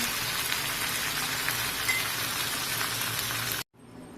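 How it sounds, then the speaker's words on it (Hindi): Chicken pieces with green chillies sizzle steadily in hot oil and curry masala, a dense close crackling frying that continues without pause for several seconds before cutting off abruptly near the end. "अब हम इस चिकन को तब तक फ्राई करेंगे जब तक मसाला जो है तेल छोड़ने ना लगे।"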